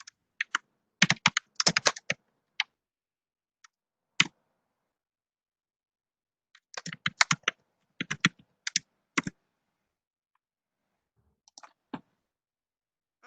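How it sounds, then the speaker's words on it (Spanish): Typing on a computer keyboard during an online statistics class, heard as scattered bursts of quick clicking keystrokes separated by pauses, fairly close and alone with no voices. "Porque yo lo estoy escuchando a usted tecleando."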